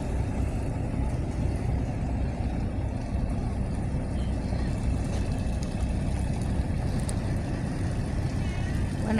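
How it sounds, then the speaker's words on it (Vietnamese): A sand-pumping boat on a Mekong Delta river gives off a steady, heavy engine drone with a low rumble that continues without a break. "Và có chiếc ghe, ghe này bơm cát nha khán giả"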